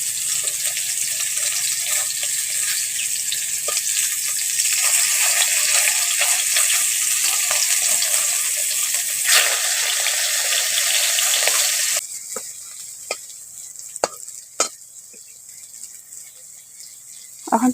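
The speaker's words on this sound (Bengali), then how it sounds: "এখন আমি উল্টে পাল্টে ভালো করে ভেজে নেব।" Prawns fry in a hot pan, with a steady broadband sizzle filling the first stretch. After a short pause the sizzle continues more quietly, broken by a few sharp clicks and scrapes as the pieces are turned. No one speaks.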